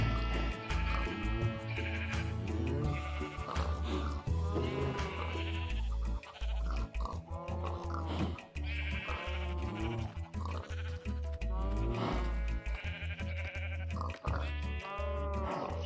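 Sheep in the Minecraft video game bleat repeatedly in loud, close, overlapping calls throughout, mixed with other farm animal sounds from a cattle, pig and sheep cooking contraption, with no talking.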